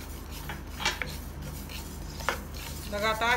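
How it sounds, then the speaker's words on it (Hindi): A spoon stirs and scrapes in a pan while red amaranth greens and chickpeas cook in mustard oil, giving a few sharp metallic clinks and scrapes over a low steady sizzle. "लगातार चलाते रहें।"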